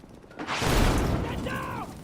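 A grenade blast in a military shooter game erupts as a loud, broad burst that swells and lingers for about a second, with a voice shouting over the tail of it.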